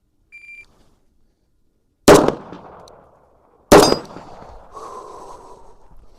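A Beretta M9A4 pistol fires two sharp, loud shots about a second and a half apart, each with a brief ringing decay, after a short beep and between quiet breathing.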